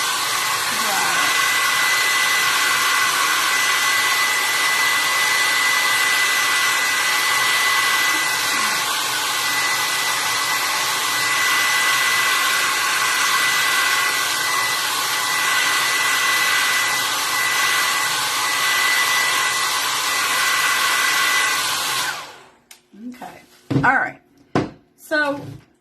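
A hair dryer blows steadily and loudly for over twenty seconds while drying paint on a Santa figure stuck in a chimney, then cuts off abruptly, followed by a few brief bumps and knocks.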